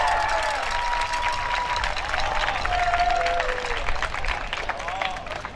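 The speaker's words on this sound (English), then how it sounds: "let's hear it for all these drum lines," A crowd at a festival drum line exhibition applauds steadily for several seconds, a dense wash of clapping with whoops and chatter mixed in.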